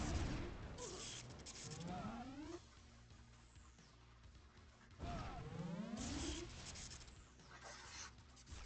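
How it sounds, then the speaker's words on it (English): Airstrike explosions boom and crash in Red Alert Remastered, a real-time strategy game, in two heavy bursts with debris scatter and sweeping whistles, mixed with in-game battle noise. "Some purple airstrikes coming in."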